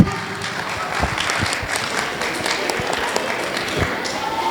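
Parents at a district-level UCMas exam graduation in Delhi clap for students, scattered sharp hand claps over a steady roomy crowd murmur, moderately loud and continuous.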